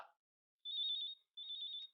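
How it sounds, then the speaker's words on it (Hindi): A telephone rings in two clear electronic trilling bursts separated by a short pause, crisp and fairly close in an otherwise quiet room, after a brief snippet of voice at the very start. "फोन उठा, फोन उठा।"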